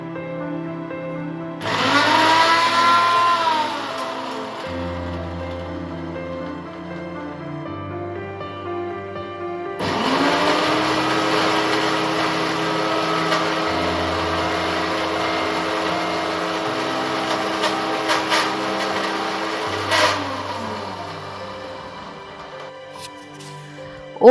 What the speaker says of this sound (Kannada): ಇವಾಗ ಫ್ರೈ ಆದ ಓಟ್ಸ್, ನಟ್ಸ್ ಮತ್ತು ಸೀಡ್ಸ್ನ ಮಿಕ್ಸಿಯಲ್ಲಿ ಗ್ರೈಂಡ್ ಮಾಡಿಕೊಂಡು ಪೌಡರ್ ಮಾಡ್ಕೊಬೇಕಾಗತ್ತೆ